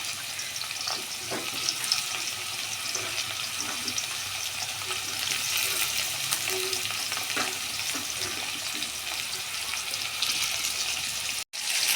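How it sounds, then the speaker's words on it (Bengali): Potato pieces frying in oil in a wok for a pointed gourd and prawn curry, hissing and crackling steadily throughout with occasional stirring clatter, and no one speaking. "আলুটা কড়াইতে দিয়ে দিচ্ছি।"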